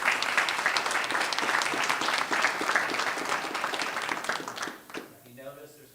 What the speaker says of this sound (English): How about a round of applause for that?